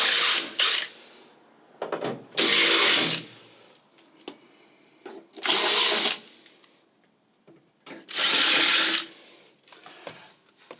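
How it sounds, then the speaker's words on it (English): A power drill drills out holes in a cargo panel of an LC78 Land Cruiser Troopcarrier, whirring in several short, loud bursts separated by quiet pauses, close by, with faint clicks and handling noises between runs. "so you simply just drill it out"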